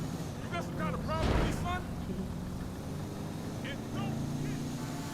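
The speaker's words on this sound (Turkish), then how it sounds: "araba çok yavaş gidiyor ya. Bak gaza tam basıyorum." A slow old car in GTA 5 strains at full throttle, a steady low engine drone running continuously beneath someone talking.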